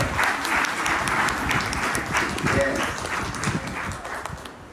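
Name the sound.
congregation applauding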